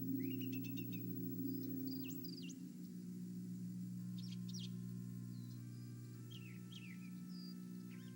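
Several birds call and chirp intermittently in a swamp, with short whistled and warbling notes scattered over a steady low hum, no talk heard.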